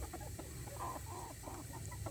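Chickens clucking softly in a farmyard, a few scattered low clucks over a steady background hum, faint and fairly close.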